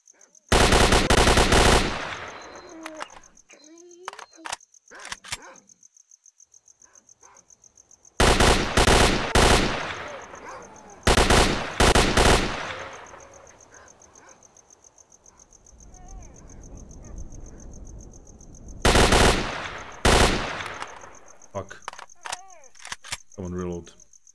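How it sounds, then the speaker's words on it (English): Bursts of automatic gunfire in S.T.A.L.K.E.R.: Shadow of Chernobyl as a player shoots at dogs: four loud sustained volleys separated by quieter stretches with insect-like chirping and faint ambient noise. "Sorry that I'm shooting dogs."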